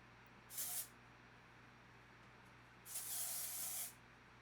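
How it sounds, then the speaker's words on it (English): Dry shampoo is sprayed into hair from an aerosol can in two close, soft hissing bursts, the first short and the second longer, with quiet room tone between them. "I'm going to put in some dry shampoo just so it'll be a little fresh"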